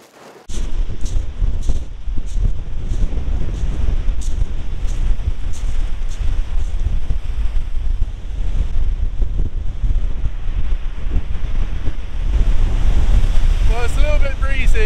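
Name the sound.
ocean waves and wind on the coast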